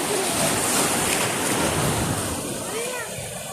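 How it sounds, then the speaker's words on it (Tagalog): Loud, constant rush of ocean surf with big waves at Bolinao, Pangasinan, wind buffeting the microphone, the roar washing steadily through the whole stretch. "Oh, malalaki alon."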